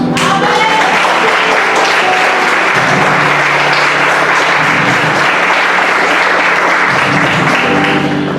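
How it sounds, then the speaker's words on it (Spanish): A church congregation applauds for Jesus, loud, dense clapping filling the space steadily from start to finish with no pauses, a few scattered voices blending into the ovation. "Denle aplauso a Jesús."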